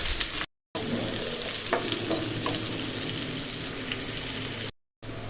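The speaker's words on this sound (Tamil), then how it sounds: "2 பெரிய வெங்காயம் அரிஞ்சு சேர்த்துக்குவோம். வெங்காயம் பொன்னிற வர அளவுக்கு வதக்கி எடுத்துக்குவோம்." Chopped onions and green chillies fry in a pan for Tamil chicken kulambu, making a loud, continuous close sizzle with stirring scrapes, broken by two short silent gaps.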